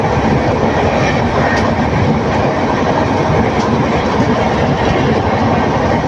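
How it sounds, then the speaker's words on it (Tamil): A passenger train running at about 100 km/h between Coimbatore and Erode, heard from on board as a loud, steady, continuous rumble of wheels on rails with faint clatter throughout. "பார்த்து நூறு ஸ்பீடில் போகுது வண்டி"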